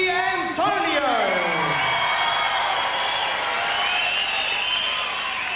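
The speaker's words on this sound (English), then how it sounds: "this huge crowd rallying behind the Western Wonder, Tony Antonio" A large crowd at a kickboxing bout cheers for fighter Tony Antonio, the Western Wonder. Loud, sustained roaring is topped by rising whoops and shouts at the start and holds at full strength throughout.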